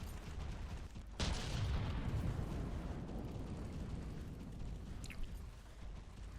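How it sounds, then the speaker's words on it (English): A missile barrage explodes in a robot combat video game: a sudden loud burst of blasts erupts, then rolls on as a dense, rumbling wash of explosions that slowly fades, with a brief sharp crack near the end. "That is just a downright ridiculous amount of missiles."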